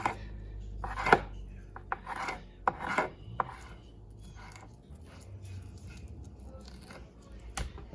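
Knife slicing a deer backstrap on a cutting board, scattered quiet rasping strokes and a few sharp taps spaced irregularly, close by and fairly soft.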